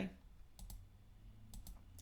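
Mouse clicks during work in the Krita drawing program, a few soft isolated clicks spaced about a second apart over quiet background hum.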